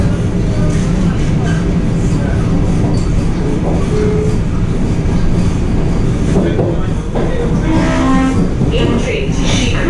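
The New Jalpaiguri–Guwahati Vande Bharat Express (22227) runs steadily along the rails during the monsoon, giving a loud, continuous rumble with rhythmic wheel clatter and faint squeals. Voices carry underneath.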